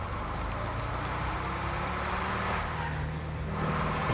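Semi-truck driving in the RedlineRP video game, a steady low engine rumble and road drone that holds for the whole stretch and swells slightly near the end, with no talk over it.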